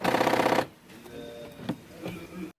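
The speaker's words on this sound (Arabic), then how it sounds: "هذا صوت القفل، بكون بده غيار" A faulty door lock actuator on a 2007 Honda CR-V gives a fast, loud buzzing rattle for about half a second, then weaker clicks and clunks follow at close range.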